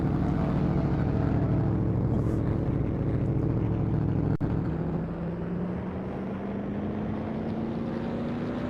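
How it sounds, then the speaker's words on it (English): A 1970-season stock car engine in the NASCAR Legends racing game drones steadily throughout, its pitch rising gradually in the second half as the car accelerates, loud and continuous with no speech. "I turned the engine up a little bit, so hopefully you can hear it a bit better"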